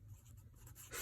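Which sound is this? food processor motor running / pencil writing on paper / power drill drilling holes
pencil writing on paper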